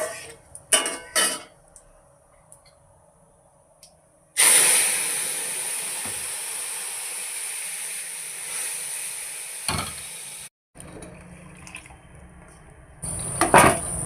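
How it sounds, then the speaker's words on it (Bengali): Water poured into a hot pan of oil tempered with five-spice seeds erupts into a loud, sustained hiss that slowly settles, after a few earlier clinks of utensils against the pan. "তো বন্ধুরা জল ঢেলে দিলাম"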